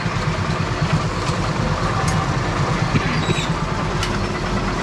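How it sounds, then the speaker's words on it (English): A Brunswick bowling pinsetter's gearbox runs steadily after its clutch re-engages, a continuous loud mechanical hum and rumble with faint rattles and occasional clicks, no voices over it. "That engages the clutch, and that'll start the gearbox again"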